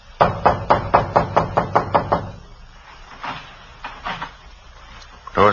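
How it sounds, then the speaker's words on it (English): A series of about ten sharp, evenly spaced knocks on a wooden apartment door in an old police radio drama, loud and close, followed by quieter handling sounds and a final thump as the door is pushed open. "Door's open."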